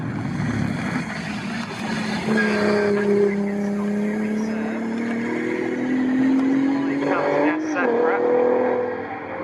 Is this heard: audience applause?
no